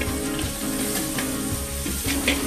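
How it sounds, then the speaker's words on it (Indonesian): Paddy snails with lemongrass are stir-fried in a hot pan, giving a constant loud sizzle with soft stirring scrapes throughout, close up and without talk. "Ditumis sampai matang dan nanti dikasih air untuk kuahnya."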